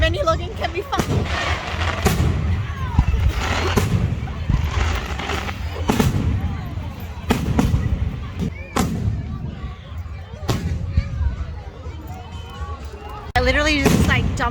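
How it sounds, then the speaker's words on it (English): Fireworks go off near a Christmas market, a string of sharp loud bangs at irregular intervals over a lively crowd, with people talking throughout. "Something tells me the fireworks are coming from my car."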